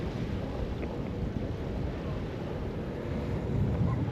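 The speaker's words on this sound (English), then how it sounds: "The weather's beautiful, but it's just a bit windy." Steady wind buffets the microphone with a rough low rumble, blended with faint surf-like wash at the Fontygary Ledges seaside in South Wales, gusting a bit stronger toward the end.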